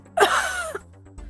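A voice imitates a wheezing cough: one strained, rasping exhale that slides downward for about half a second and ends in a small catch, close and alone.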